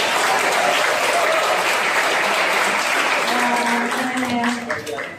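Loud audience applause after a speech at a student dialogue event in Yogyakarta: dense, sustained clapping from a crowd fills the whole stretch, easing slightly at the very end.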